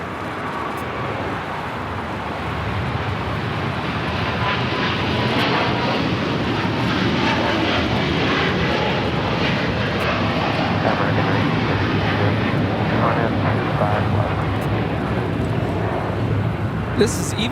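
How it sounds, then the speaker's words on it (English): An Eva Air Cargo Boeing 777 freighter takes off from LAX, its engines a broad, steady roar that holds strong and close for the whole stretch. "This is Eva Air Cargo 611 taking off to Taipei on a 777 freighter."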